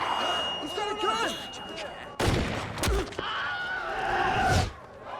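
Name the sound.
gunfire in a cutscene from the video game Saints Row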